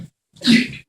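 A single loud, close sneeze bursts out after a brief pause, sharp at the onset and trailing off quickly.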